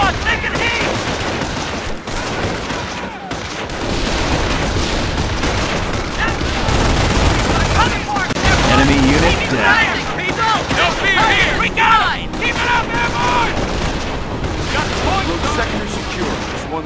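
Dense gunfire crackles almost nonstop in a WWII battle in Company of Heroes during the Vierville mission. Rapid bursts and booms overlap for the whole stretch, with shouted voices in the mix.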